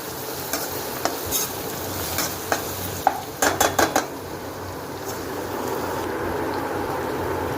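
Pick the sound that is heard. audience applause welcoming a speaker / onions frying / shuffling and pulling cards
onions frying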